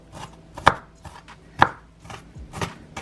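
Knife chopping onions on a board for broccoli cheddar soup: a few sharp, separate chops, two standing out loud and close, with softer taps between.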